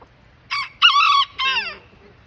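A rooster lets out one loud, close crow in three strained segments, the last sliding downward, with backyard chickens around and a quiet background.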